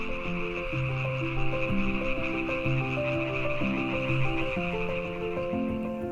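A dense chorus of frogs and toads giving mating calls at a pond at dusk, many overlapping croaks and trills forming a steady, loud wall of sound with no voices.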